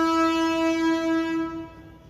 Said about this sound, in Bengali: এত ট্রেনের আওয়াজ না ভালো লাগে না